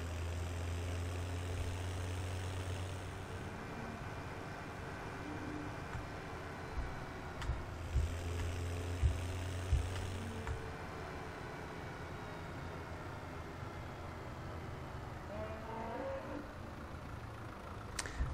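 An old 1960s-70s tractor in Farming Simulator 17 idles quietly with a low, steady engine hum, a few faint knocks and rises partway through, and no talking.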